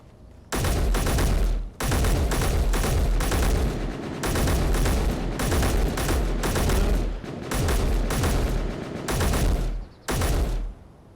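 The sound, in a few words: rapid fire rifle shooting in a video game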